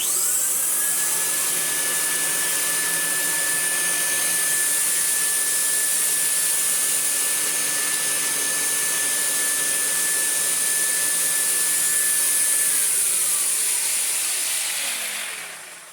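A vacuum cleaner fitted with a turbo brush runs loudly and steadily as a home cleaning system, its whine holding a constant high pitch for several seconds before winding down at the end.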